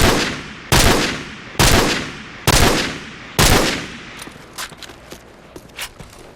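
Assault rifle blind-fire bursts in Call of Duty 4: four loud, sharp bursts roughly a second apart, each trailing off in echo, followed by quieter scattered clicks and clatter.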